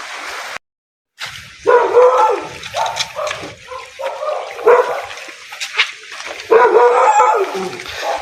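Several dogs bark loudly and repeatedly up close, with yips and whimpering mixed in among the barks.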